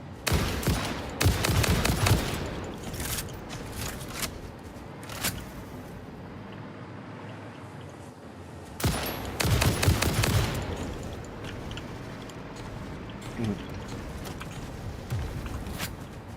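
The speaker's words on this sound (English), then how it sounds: "Ran out of ammo as I'm getting shot at." Gunfire aimed at a player in the factory-building game Satisfactory, bursts of rapid shots in two loud clusters at the start and again midway, separated by quieter stretches with sparse single cracks.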